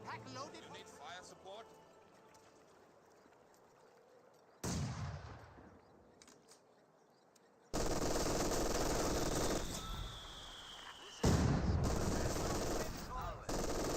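Machine-gun fire from an MG42 in the Company of Heroes 2 battle game sounds in loud sustained bursts, with other gunfire and battle noise around it. A commentator talks over the gunfire.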